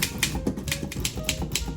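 A German typewriter with a cursive typeface and very snappy, responsive keys types in quick, sharp clacks, about a dozen close key strikes in a fast, slightly uneven rhythm.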